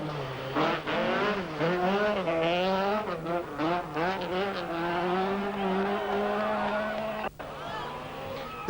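A rally car driving fast, its engine revving hard through rising and falling gear changes, loud and close, with a brief drop near the end before the note returns.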